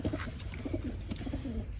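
Soft, low pigeon coos repeat in a steady rhythm, close by, over a constant background hiss.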